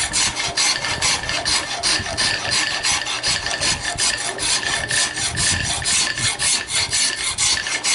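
A hand file rasps back and forth across hard walnut wood in steady repeated strokes, a close, gritty scraping texture that continues throughout with no voices.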